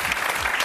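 A studio audience on a Serbian Valentine's Day TV talk show breaks into a short burst of dense, close clapping that fills the whole moment.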